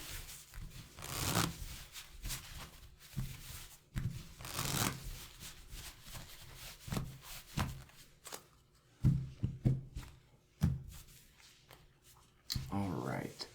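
Playing cards riffled and shuffled by hand for casino three card poker, close and intimate, with repeated papery rustling bursts and soft taps separated by brief pauses.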